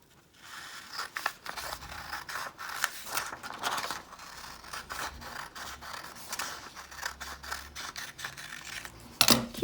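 Scissors snip through paper while cutting out pages for a small handmade mermaid notebook, producing a run of close, quiet crisp cuts and rustles with a sharper snip near the end.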